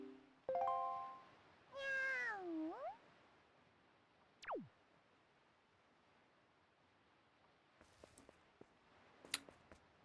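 Cat meows in the video game Wind Waker, a few drawn-out bending cries near the start, then a springy boing and scattered clicky game effects, with no one speaking.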